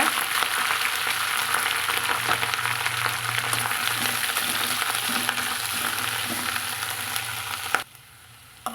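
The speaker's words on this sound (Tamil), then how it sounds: "நம்ம க்ளீன் பண்ணி வச்சுக்கிற தூதுவளையும் போட்டு கலந்து விட்டுக்கலாங்க" Cleaned thuthuvalai leaves sauté in a hot pan for a chutney, producing a dense, loud, continuous frying sizzle with faint stirring movement that cuts off near the end, with no speech.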